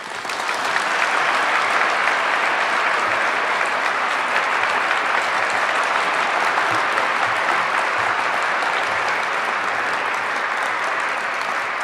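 An audience applauds to welcome a university lecturer, steady sustained clapping from a full hall that holds at an even level throughout with no speech over it.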